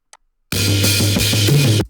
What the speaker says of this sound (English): Hear that? Those like cymbals going.